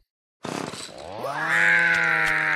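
After a brief silence, a saw motor starts up loudly and rises in pitch to a sustained high whine, close and harsh.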